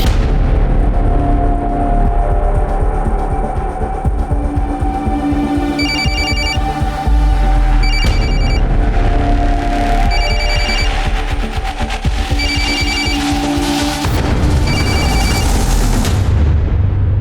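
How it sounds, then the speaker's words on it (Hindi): A telephone rings in repeated electronic trills, loud and steady, cycling every couple of seconds with no talking. "किसका फोन है?"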